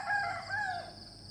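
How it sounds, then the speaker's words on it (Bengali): A hill rooster crows at dawn in the Bandarban hills: one short, moderately loud call with a rising then falling, drawn-out shape, heard alone without talk. "পাহাড়ি মোরগের ডাক।"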